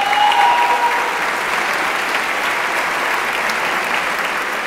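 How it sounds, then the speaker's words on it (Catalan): A large concert audience at an international band music competition in Valencia breaks into sustained applause, a dense, even wash of clapping that stays loud throughout, with a brief tonal note at the very start. "Un aplaudiment per a ells,"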